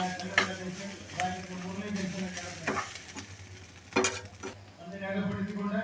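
A spoon stirs rava biryani with garam masala in a hot pan, with gentle sizzling under a few sharp metallic scrapes and clinks spaced across the stretch.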